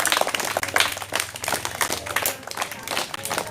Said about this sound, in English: All of you give big clap to her.